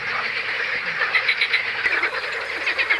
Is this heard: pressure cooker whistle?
no